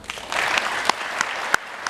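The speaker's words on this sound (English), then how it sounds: "if you have not seen it, clap politely." Polite applause from an audience at a live on-stage conversation event, steady, moderately loud clapping from many people, with a few sharper individual claps standing out.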